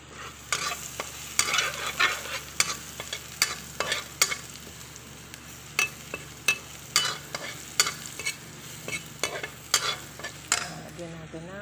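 Garlic frying and being stirred in a pan, a steady sizzle broken by repeated sharp scrapes of the spatula at irregular intervals, close and fairly loud with no talking.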